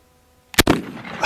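A single sharp, loud gunshot from a Winchester lever-action rifle chambered in .303 British, fired outdoors, with a short crack followed by a brief rumbling echo and a faint noise rising at the end.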